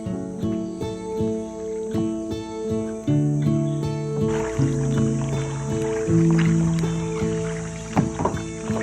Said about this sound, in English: We took a last paddle to the floating restaurant to have a slow breakfast.